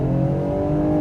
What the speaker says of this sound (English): Let's go ahead and get a little acceleration in here.